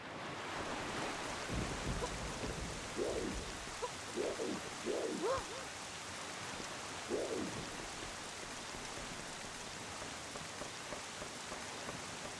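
A steady, hissing downpour from a storm in the GameCube game Wind Waker fills the whole stretch, with a few brief, muffled tonal sounds rising over the rain near the middle.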